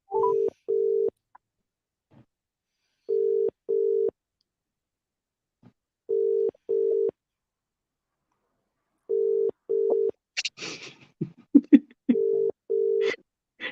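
A telephone makes repeated paired tone beeps on a call, a ringback-style pattern of two beeps every few seconds, clear and close in quiet gaps, with faint rustling and handling noise near the end.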